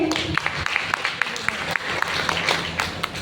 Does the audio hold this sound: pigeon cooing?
no